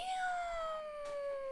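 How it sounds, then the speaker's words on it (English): A cat lets out a single drawn-out, slowly falling wail in the background, steady and clear over a quiet room. "You may hear my cat in the background."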